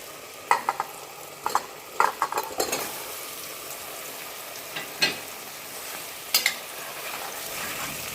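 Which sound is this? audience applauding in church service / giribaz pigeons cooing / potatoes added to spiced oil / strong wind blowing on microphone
potatoes added to spiced oil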